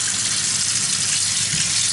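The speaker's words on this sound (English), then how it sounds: "I'm going to fill the water just above the pouches, just so it just covers them all up" Tap water gushes steadily into a sink being filled with soapy water to wash gear pouches, a loud, close, continuous rushing with no voices.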